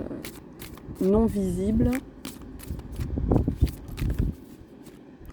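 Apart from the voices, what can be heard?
tarot cards being drawn from the deck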